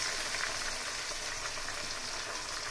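Carrots and cabbage fry in a pan for undhiyu, a steady close sizzle that holds evenly throughout with no voices.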